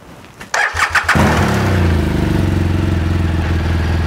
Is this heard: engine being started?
yes